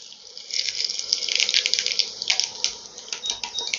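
Whole cumin seeds sizzle in hot refined oil in a wok, a bright, continuous crackling hiss with small pops, fairly close and steady throughout.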